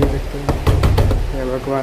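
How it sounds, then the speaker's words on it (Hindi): Someone pounds hard on a door at night, a quick run of heavy, close raps, while someone speaks over and around them. "कौन इतना रात को मेरा दरवाज़ा इतना ज़ोर से मार रहा है।"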